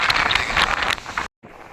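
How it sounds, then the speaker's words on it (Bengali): Strong sea wind and roaring waves on the beach at Digha, with loud, blustery wind buffeting the microphone over the surf. The sound cuts out briefly near the end, then returns more quietly. "প্রচণ্ড জোরে হাওয়া চলছে, এত জোর সমুদ্রের গর্জন,"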